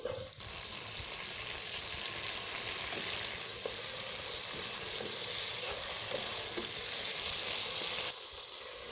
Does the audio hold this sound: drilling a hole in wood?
no